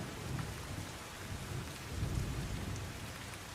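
Heavy rain pours steadily in Surat, Gujarat, in a dense, continuous roar with low rumbling underneath, no voices, fairly quiet overall.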